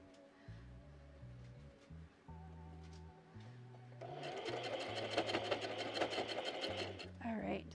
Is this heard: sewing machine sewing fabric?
yes